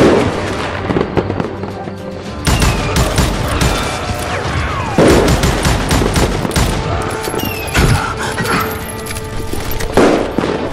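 Heavy gunfire from Call of Juarez Gunslinger inside a saloon, loud rapid shots and volleys cracking in clusters with brief gaps, dense and close throughout the ten seconds.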